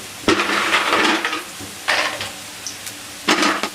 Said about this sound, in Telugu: పల్లీలు కొంచెం లైట్గా ఫ్రై అయ్యే వెంటనే